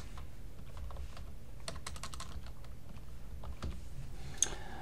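Computer keyboard keys tapped in an irregular burst of close clicks while typing a word, with short pauses between keystrokes in a quiet room and no voices.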